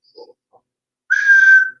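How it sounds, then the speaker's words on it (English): A short, thin whistle is blown once up close. It comes as a single steady tone lasting about half a second after a couple of faint small noises. "That was a pathetic whistle, wasn't it?"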